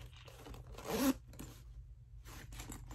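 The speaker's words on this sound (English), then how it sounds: "And I love the zipper sound on here as well." A single quick zipper pull on a small pouch, soft and close, in an otherwise quiet setting with faint rustling before and after.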